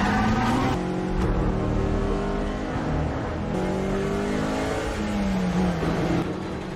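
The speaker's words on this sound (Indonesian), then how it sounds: "dengan cepat Nathan meminjam senjata dan juga mobil si polisi lalu bergegas pergi untuk mengejar para perampok itu." A police car speeds through an action film chase, its engine revving hard and rising in pitch through gear changes, loud and close with brief tire squeal near the end.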